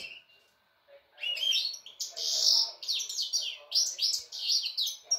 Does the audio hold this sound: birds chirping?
yes